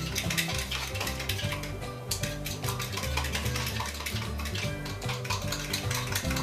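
A mixture being whisked in a bowl for a Victoria sponge, a fast, steady rhythmic scraping and clinking of whisk against the bowl, continuous and close with no speech.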